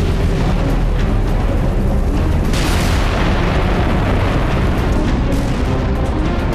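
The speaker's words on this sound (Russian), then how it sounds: "Один из танков Риду подбили. И остальные тоже начали взрываться." Tanks exploding in battle at Kursk, a loud, continuous roar of blasts and rumbling detonations with a sharper burst in the middle, dense and unbroken throughout.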